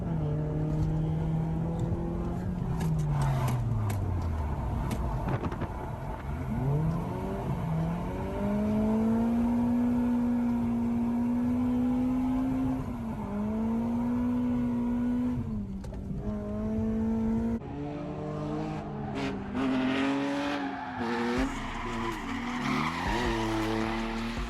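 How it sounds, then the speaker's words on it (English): A drifting car's tires squeal in long sliding wails over a revving engine, pitch sweeping up and down as the car slides, loud and close with no talk. "I started drifting."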